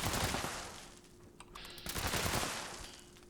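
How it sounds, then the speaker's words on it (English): Rapid gunfire with explosive bullets striking super mutants in the video game Fallout 76, dense overlapping shots and blasts in two loud bursts around a brief lull, with no talk. "311 is still the case here with explosive bullets to super mutants' heads"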